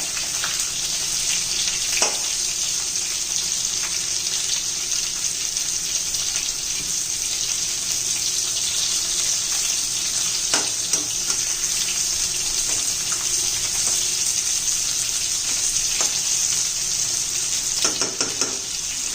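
Stuffed bitter gourds sautéing in a pan, a loud, steady hiss of oil sizzling close up with occasional brief clatters, no talk.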